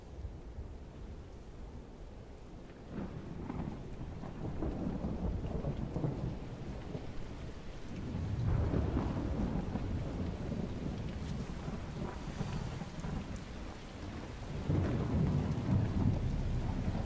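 Rain and thunder outside a dojo in the Shenmue video game: constant rainfall under deep, rolling thunder rumbles that swell several times, fairly quiet overall, with no voices.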